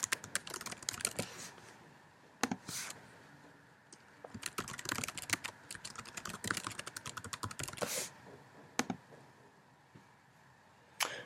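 A first and last name typed into an online form on a computer keyboard: quick bursts of close, crisp key clicks with brief pauses between words, quiet room, no talking.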